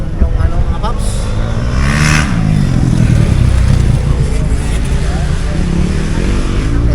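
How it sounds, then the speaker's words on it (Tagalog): A motocross motorcycle engine revs and rises in pitch amid outdoor noise at a town spot, with people talking loudly close by. "Naglalaro ng motor cross si Sponsor ngayon dito sa pwesto sa Emma Town."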